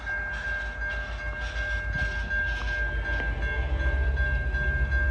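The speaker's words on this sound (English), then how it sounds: "Alright, we have a train coming, you can see." A train rumbles steadily past close by at Pefferlaw, with a sustained tonal whine over a low, continuous rolling roar that grows slightly louder toward the end.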